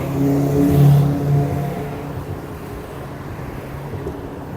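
Street traffic in Stockholm, Sweden: a loud, low rumble of cars passing close by, swelling near the start and easing into a steady roar with wind buffeting the microphone.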